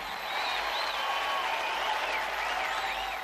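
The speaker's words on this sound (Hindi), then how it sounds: "चलिए प्रभु की स्तुति के लिए जोर से ताली बजाइए।" A crowd at a church worship service claps steadily and loudly throughout, a dense continuous wash of applause with no pauses.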